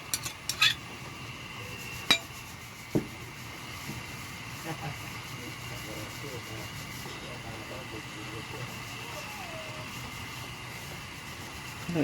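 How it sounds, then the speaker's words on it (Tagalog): A pan of pansit bato noodles with canton being stirred, giving a few sharp utensil clinks against the metal early on, then a low, steady cooking background with only faint scraping. "Haluin na natin."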